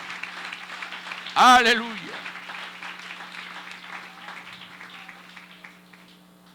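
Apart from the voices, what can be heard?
church congregation applause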